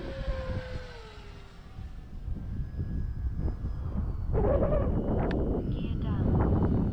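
An E-Flite T-28 RC airplane with a 1.2 m wingspan passes overhead on a flyby, its electric motor whine sweeping in pitch. Wind buffets the microphone and people talk over the engine as it goes by.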